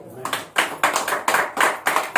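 A congregation claps together in rhythmic bursts at a church gathering, about seven or eight sharp rounds of hands in a steady beat, close and fairly loud with no speech.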